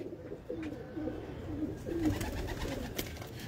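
Pigeons coo softly and steadily, several low rolling calls overlapping one after another, from a flock of breeder and high-flyer birds, with faint ambient noise behind.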